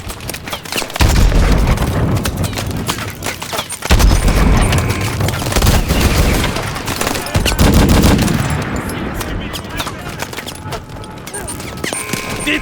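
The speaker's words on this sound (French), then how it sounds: "Grenade lancée!" Loud gunfire and explosive booms from a grenade in Call of Duty Advanced Warfare, heavy bursts of rapid shooting with deep blasts layered throughout, dense battle noise from start to finish.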